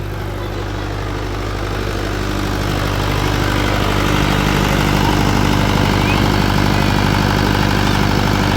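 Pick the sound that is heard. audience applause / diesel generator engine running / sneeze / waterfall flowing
diesel generator engine running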